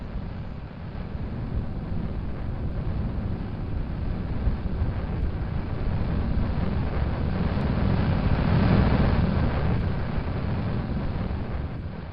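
Rocket engines roaring through a launch in Kerbal Space Program, a steady dense rumble with hissing noise that holds nearly unchanged for the whole stretch and swells slightly toward the end, with no talking.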